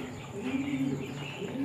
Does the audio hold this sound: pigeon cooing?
yes